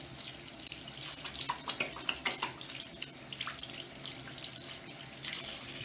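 Tap water runs steadily into a sink while soapy hands are rinsed, a close splashing patter with uneven bursts as the hands move under the stream.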